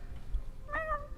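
A voice imitates a cat, giving a single close, clear meow with a rising, wavering pitch against faint room noise.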